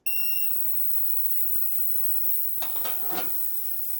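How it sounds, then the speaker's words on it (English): A newly set-up ultrasonic parts cleaner starts on a batch of BMW transmission pan bolts: a few steady electronic beeps, then a rough, fizzing buzz that swells up near and loud. "let's grab all these transmission pan bolts and get them in our new ultrasonic parts cleaner"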